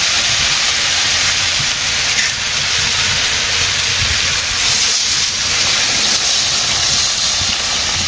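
Broth poured into a frying potato, eggplant and papaya curry, producing a loud, steady, close hissing sizzle that continues without a break and without any talk.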